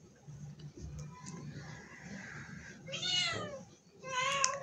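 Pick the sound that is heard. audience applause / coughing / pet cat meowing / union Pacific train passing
pet cat meowing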